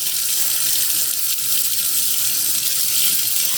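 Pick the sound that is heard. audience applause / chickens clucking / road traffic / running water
running water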